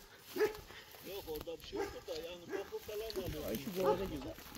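Flock dogs in the Pülümür mountains of Turkey bark and yip in short bursts through the clip, mixed with people talking nearby.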